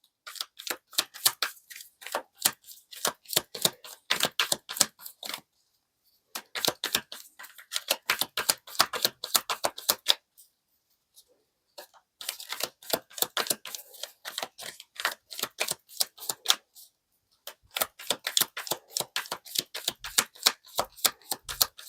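Tarot cards shuffled and drawn by hand in quick bursts of crisp riffling clicks and snaps, several seconds each, broken by short pauses, close and fairly loud with no talking.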